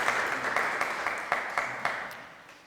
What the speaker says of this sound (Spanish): le damos un fuerte aplauso justamente a nuestro ponente